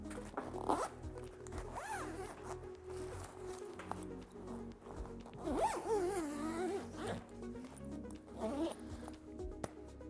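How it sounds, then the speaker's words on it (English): A zipper on the carry bag of an Ensuite Mounted Double shower tent is pulled closed in a series of rasping strokes, close and fairly loud, with no talking over it. "let's zip it up."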